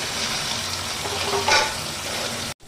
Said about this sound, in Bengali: আমি কড়াইতে দিয়ে দিলাম জিরা ফোড়ন ওই তেলের মধ্যে